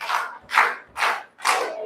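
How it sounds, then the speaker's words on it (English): A rhythmic 4-H clap from a crowd welcoming students at a Dominica 4-H Club national public speaking competition: four loud bursts of clapping and voices spaced about half a second apart, near and alone. "give them a 4-H clap, make them feel welcome"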